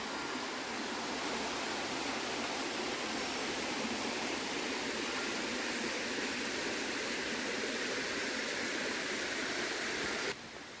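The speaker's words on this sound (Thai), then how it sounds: "นี่คือน้ำตกสวีเดนนะคะ เป็นแบบนี้นะคะ" A waterfall in Sweden roars with a steady, dense rush of falling water, loud and close, unchanging throughout before it drops slightly at the very end.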